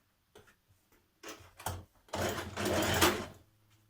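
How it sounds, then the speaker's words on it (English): A sewing machine runs a short burst of stitching on a 1.5 cm seam joining skirt panels for an evening dress, starting with a few ticks then a fast close whir. "this time we're stitching right from the top all the way down"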